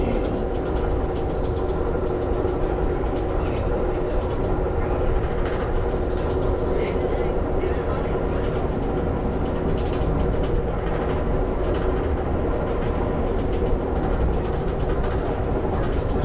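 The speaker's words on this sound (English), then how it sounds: "train moving south" An Amtrak train rolls southbound near Brookhaven station in Mississippi, a steady low rumble with faint rail clatter throughout, heard from on board or nearby with quiet voices in the background.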